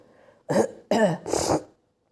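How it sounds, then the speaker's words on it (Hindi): Three harsh coughs in quick succession, close and fairly loud, with a brief pause before the first and silence after the last. "बहुत खांसी जुकाम भी हो रहा है मेरे को, बहुत ज़्यादा"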